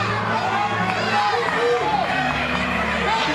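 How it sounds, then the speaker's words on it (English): A UFC arena crowd roaring and cheering in a steady, loud wash, with commentators talking over the noise. "Crowd trying to rally behind Catherine Roy"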